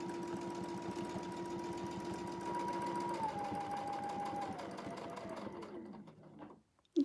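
A quilting sewing machine stitches steadily along a clamshell ruler, a continuous fast mechanical hum with rapid needle pulses that slows and pitches down near the end before stopping.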